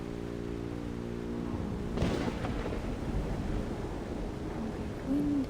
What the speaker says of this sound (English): Wind and lightning.